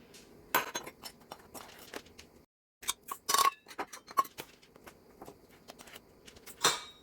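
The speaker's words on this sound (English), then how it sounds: "we'll level it off with the back of the knife" A knife back scrapes across a dry measuring cup to level off flour for a pound cake, giving a few light clinks and scrapes close by, with short pauses between them.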